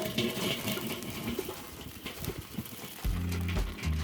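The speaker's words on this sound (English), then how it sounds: "our charcoal is just about ashed over on the top. We're going to go ahead and pour it." Ashed-over charcoal poured from a chimney into one half of a grill, a steady rushing, clattering cascade up close that swells into a denser, louder pour near the end.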